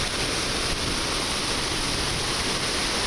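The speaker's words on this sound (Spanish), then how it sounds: "este es el río San Pedro aquí" The San Pedro River in Rosales, Chihuahua, running full, gives a steady, loud, close rushing of flowing water with no pauses and no voices.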